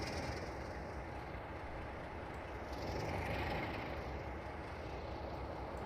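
A heavy coal train on the Great Western Main Line pulls away in a train simulator game, a quiet, steady rumbling hum with a slight swell midway.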